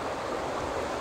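A river and waterfalls in the Scottish hills rush with a steady, broad, even roar of flowing water, close and continuous, with no voices.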